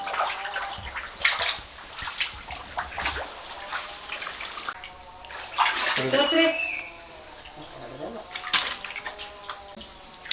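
Freshly caught snakehead fish rinsed in water in a village setting, with close sloshing and splashing that comes and goes over about ten seconds while people talk nearby.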